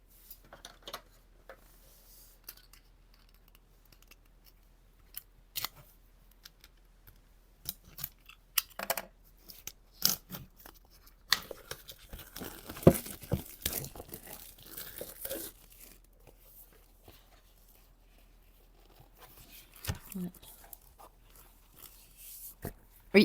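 A new fine-grain natural paper sketchbook is opened: scattered crisp crinkles, rustles and tearing of wrapping come in irregular bursts, busiest mid-clip, with quiet gaps between and a voice occasionally speaking.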